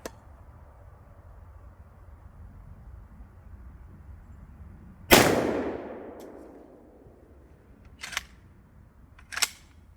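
A Riley Defense RAK47-T-MFT AK47 rifle fires three shots outdoors: one loud, sharp crack with a trailing echo, then two quicker, quieter reports a few seconds apart, with no talking.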